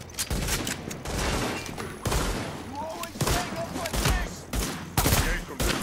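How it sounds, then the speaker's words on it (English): Enemy gunfire rattles in The Division video game, with repeated bursts of rapid automatic shots and scattered single cracks filling the scene, loud and dense throughout. "How are they even shooting me?"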